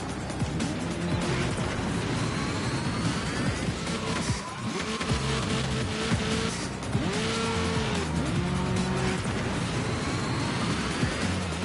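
Futuristic racing cars in F-Zero braking hard and throttling up through turns: a continuous loud engine whine with swooping pitch, squealing skids and rushing wind, no voices.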